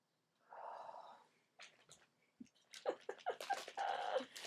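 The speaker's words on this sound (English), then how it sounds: "You ever just sniff your wool?" Close, quiet sniffs as a person smells wool yarn up close, a series of short breathy inhalations that grow quicker toward the end, with no speech.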